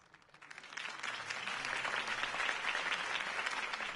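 Crowd applause for Harvey Dent's campaign speech in Batman: The Telltale Series, starting softly and swelling into a steady, dense wash of clapping that holds for several seconds.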